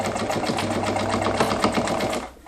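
A sewing machine stitches net for a ghillie suit, a close, rapid, even mechanical clatter that runs steadily before slowing and stopping at the end.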